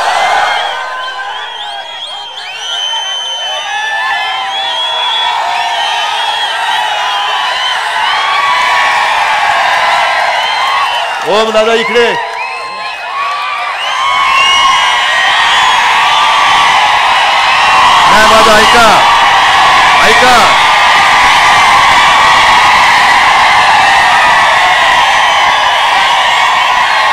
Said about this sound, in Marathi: नुसता जल्लोष नकोय